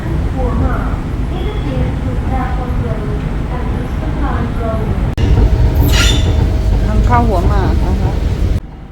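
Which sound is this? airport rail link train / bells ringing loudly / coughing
airport rail link train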